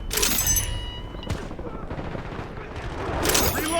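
Gunfire in Call of Duty: Warzone in Verdansk, with loud rapid automatic bursts at the start and end and a sharp shot between them, over a steady rumble of combat noise, with game voice lines mixed in.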